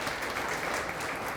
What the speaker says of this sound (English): A round of applause really to the staff and to the leadership for coming forward